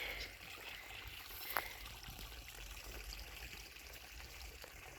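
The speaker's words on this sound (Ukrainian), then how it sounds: "Водичка булькотить." Outdoors by a riverbank, water trickles and babbles softly and continuously, with one brief sharp splash partway through.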